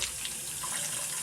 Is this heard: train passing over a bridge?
no